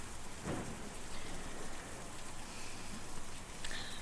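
Steady rain patters softly across surfaces in the video game Kentucky Route Zero, a faint even hiss of drops with no voices, rather quiet and distant.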